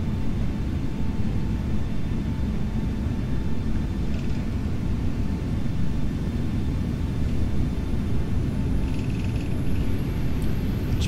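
A UPS Boeing 777 freighter taxiing at Cologne airport, heard as a loud, continuous low engine rumble and broadband roar that holds steady throughout, with a faint whine riding on top.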